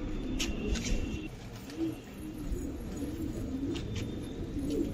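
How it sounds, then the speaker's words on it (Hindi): Racing pigeons coo steadily on a rooftop in low, throaty bursts, several birds overlapping in a continuous murmur with a few faint higher chirps above. "एक से एक माशाल्लाह अच्छा कबूतर।"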